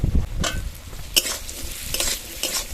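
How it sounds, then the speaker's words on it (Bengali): Diced potatoes frying with lightly reddened chopped onions in a pan: a steady close sizzle broken by several sharp scraping stirs, with no talk. "আলুগুলোই প্রথমে দিয়ে 30 থেকে 40 সেকেন্ড মতো একটু ভেজে নেব"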